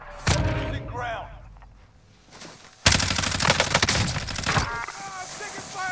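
Video game gunfire rattles in rapid bursts, first a few sharp shots, then a loud sustained fusillade after a lull, with players shouting over it.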